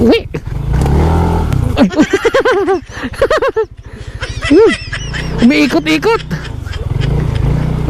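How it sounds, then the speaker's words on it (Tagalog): Several ducks quack and honk loudly in overlapping calls, close by, over a low engine-like rumble and some background voices. "daming pato dito"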